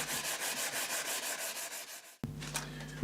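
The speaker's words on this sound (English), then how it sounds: "we're now going to just get rid of some of this rippling and sort of uneven finish just by flattening it out with varying grades of sandpaper" Sandpaper rubs steadily over a repaired carbon fibre fishing pole, flattening a rippled, uneven finish in quick back-and-forth strokes, close and loud; partway through the scraping shifts to a harsher, brighter rasp.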